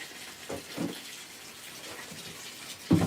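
Water running and splashing in a bathtub as clothes are rinsed in cold water, with a soft steady flow and a few louder sloshes near the start and end.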